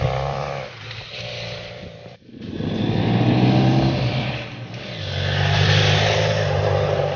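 A motorcycle rides a treacherous, wet, winding road through Malaysia's Cameron Highlands, its engine droning steadily up close with swells in level and a brief dip midway.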